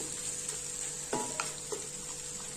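Green chillies and curry leaves being stirred into a pot of chicken roast biryani: soft scraping with a few distinct spoon knocks over a steady faint cooking hiss, with no talking.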